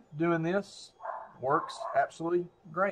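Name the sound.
dog barking in the background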